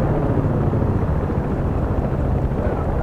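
A Battlefield 3 helicopter churns with a loud, constant rotor-and-engine roar in a multiplayer match, a dense, unbroken drone filling the whole moment.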